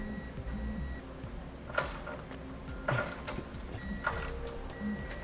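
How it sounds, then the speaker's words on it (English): A wrench clicks in short ratcheting bursts, three distinct spells spaced about a second apart, while torquing trailer hitch receiver hardware on a 2017 Dodge, fairly close over low background hum. "Now we'll torque all of our hardware to the amount specified in the instructions."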